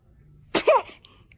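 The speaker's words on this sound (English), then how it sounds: "esos estornudos" Baby giving one short, sharp sneeze, a quick breathy burst followed by a faint soft vocal trail, close up and alone.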